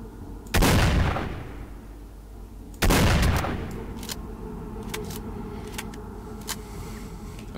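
Gunfire in the S.T.A.L.K.E.R. video game, two heavy, loud blasts a couple of seconds apart, each leaving a long rumbling tail, followed by faint scattered clinks.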